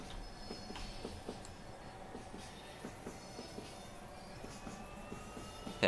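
A Class 66 freight train rolls along the Wherry Lines in a train simulator, with steady rhythmic clickety-clack from wheels over rail joints, faint wheel squeal and a low running drone.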